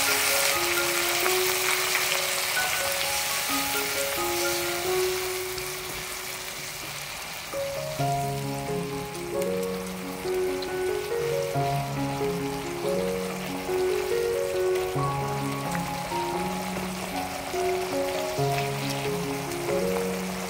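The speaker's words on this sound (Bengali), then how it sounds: "বন্ধুরা এখন এই নুন আর হলুদটাকে ভালো করে এখানে মশলার সাথে কষিয়ে নিচ্ছি" Spice paste cooking with salt and turmeric in a pan for a bottle gourd and prawn dish, a continuous moderate sizzle and bubbling under a clear melodic background tune.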